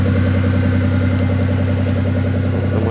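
A car engine held steadily at high revs for about three seconds in a garage, loud and close with a constant drone. The car has just had a roller replaced after 100 km on forest roads.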